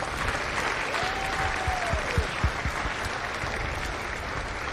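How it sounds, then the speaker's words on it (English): Steady applause from the audience at a Marine recruit graduation ceremony at MCRD San Diego, moderately loud and even throughout, with a single whistle gliding across it near the start. "Ladies and gentlemen, a round of applause for the families of Company H."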